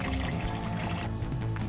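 Purified water pours steadily into a pot for cooking spaghetti, a continuous splashing gush filling the whole moment, close and fairly loud with no talk over it.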